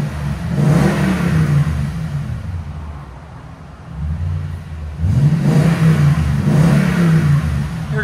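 A 2021 Toyota Tundra TRD 5.7L V8 with X-pipe and Borla Pro-XS exhaust revs up twice, the rumbling exhaust rising, easing back to idle in between, then swelling loud again, with no talking.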